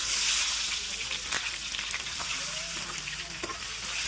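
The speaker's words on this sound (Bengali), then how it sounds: "আমি এখানে তেল দিয়ে দিচ্ছি আমি এখন পেঁয়াজটা ভেজে নেবো" Steady mustard oil sizzle and crackle of frying onions for beef curry, close and continuous, with occasional soft clinks of a utensil stirring the pan.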